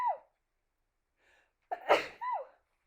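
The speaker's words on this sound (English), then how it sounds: "Ooh, I have to sneeze, excuse me." A woman sneezes close by, a short sharp burst followed by a breathy exhale, with a little quiet speech-like sound before it.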